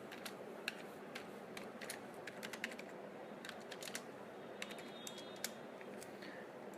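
Light tapping on a computer keyboard entering a suborder ID, irregular quick keystrokes in short bursts over a quiet steady hiss, faint and close.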